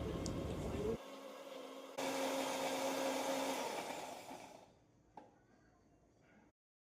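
A kitchen mixer grinder blending masala paste for butter paneer whirs loudly and steadily, shifts pitch partway, then winds down and falls quiet, ending with a faint click.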